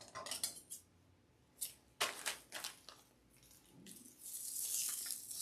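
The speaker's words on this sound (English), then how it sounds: "We will just cut this one to match." Scissors snipping orange stems for a fall pumpkin spice wreath, several sharp close clicks and cuts spaced irregularly, followed by a longer rustle of handled foliage, no talking.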